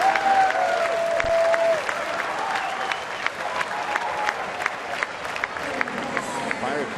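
A baseball crowd at a night game applauds a batter with sustained, steady clapping and cheering, while a broadcaster's voice is heard briefly at the start over the noise.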